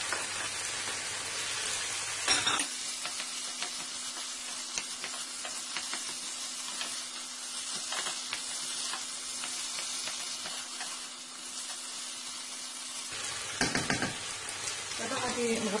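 Tomatoes sauté in a pan for a quick chicken breast dish, giving a steady close sizzle and crackle that runs unbroken for most of the stretch, bracketed by brief clatter and handling at the start and end.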